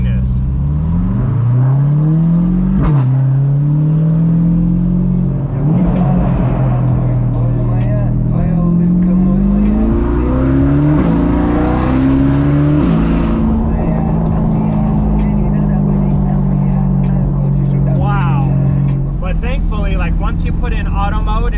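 An Audi R8 engine revs hard and accelerates, loud and close, its tone sweeping up and down through repeated climbs and drops in one sustained roar.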